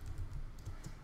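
Typing on a computer keyboard while entering file-server configuration settings, a steady run of soft, quiet keystrokes with no voices.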